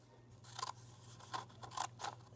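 Edge scissors snip through paper in a collage craft session, giving several quick, crisp cuts in an uneven rhythm, close and fairly quiet, with no voices.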